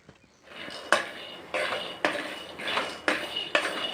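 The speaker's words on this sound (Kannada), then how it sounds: "ನಾನು 1 ಕಪ್ಪಷ್ಟು ಶೇಂಗಾವನ್ನು ತಗೊಂಡಿದ್ದೇನೆ. ಇದನ್ನು ಚೆನ್ನಾಗಿ ಫ್ರೈ ಮಾಡ್ಕೊಳ್ಬೇಕು." Peanuts are dry-roasted and stirred in a pan, with a steady, close rattle and repeated scraping sweeps at a regular rhythm of about one stroke every half second.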